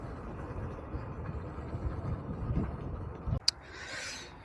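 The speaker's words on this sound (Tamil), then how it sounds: "ஃபைனலி வண்டி ஆஃப் ஆகிடுச்சு." A vehicle's engine rumbles low and steady after a highway top-speed run, then cuts off abruptly, leaving a brief faint hiss.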